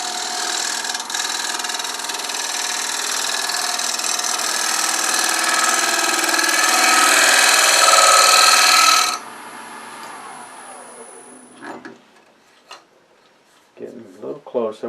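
Shear scraper cutting a brass-filled woodturning on a lathe, a loud continuous scraping hiss for about nine seconds, then the lathe winding down into quieter ticks and faint clicks.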